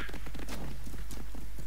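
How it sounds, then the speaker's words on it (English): A horse in the Assassin's Creed Origins video game trots with rapid, rhythmic hoof clip-clops, close and loud over a steady background rumble. "jump on my horse and ride to"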